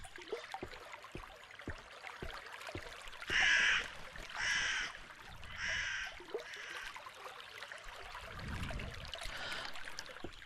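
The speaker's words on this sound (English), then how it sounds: "Crow again." Several harsh crow caws in a row, loud and fairly close, in a quiet boggy forest with a faint trickle of water underneath and soft footsteps.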